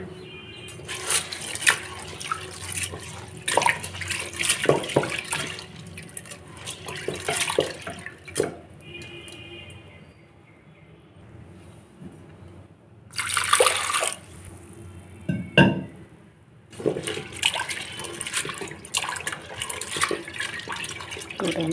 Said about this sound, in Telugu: అందులో వాటర్ పోసుకొని వాటర్ వాష్ చేసుకున్నాము.